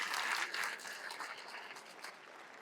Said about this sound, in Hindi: ढंग से ताली बजाओ, कुछ तो अभी भी नहीं जागे।